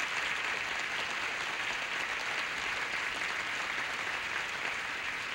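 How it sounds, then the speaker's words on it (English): A game show studio audience applauds steadily for the whole stretch, a dense, even wash of clapping that neither swells nor fades, with no voices above it. "Let's have a nice round of applause as we get it underway."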